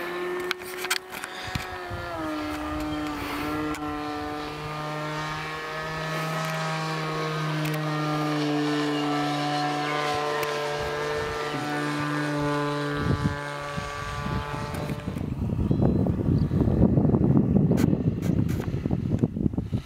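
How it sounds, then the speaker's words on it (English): A propeller airplane flies overhead, its droning engine loud and steady with a harmonic whine that slides in pitch as it passes, then fades into wind rumble on the microphone toward the end. "Okay, where's the plane? I see it."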